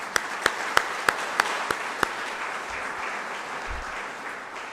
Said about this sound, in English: that begins a long night of a lot of clapping